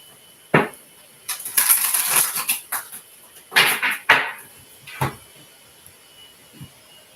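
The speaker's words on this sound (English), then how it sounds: "One more shuffle." Quick papery riffles and soft slaps of tarot cards being shuffled in a few short bursts, close and fairly quiet.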